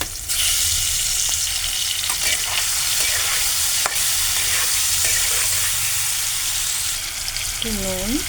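Mustard oil sizzles steadily in a pan with nigella seeds and turmeric as raw mango pieces go in to fry, a dense, even crackle with a few soft utensil knocks and a brief tonal squeak near the end.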